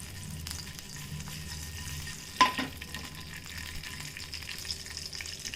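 Two red chilies go into hot tempering seasoning for lentil dal, a quiet steady sizzle with a brief louder crackle and spatter near the middle.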